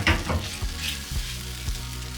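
Rigatoni being stirred through a pea puree sauce in a pan, a few soft wet scrapes and squelches over a low sizzle, close up with no talking.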